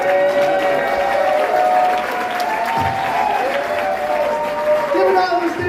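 A comedy club crowd at the Tempe Improv applauds comedian Steve Russell, a dense, sustained wash of clapping mixed with cheering and scattered voices throughout.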